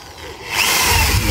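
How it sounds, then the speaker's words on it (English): A power drill bores a hole in a wooden raised garden bed board, starting quietly and then running at a steady, loud whir close by, with no talking. "You can drill a hole there, one hole there"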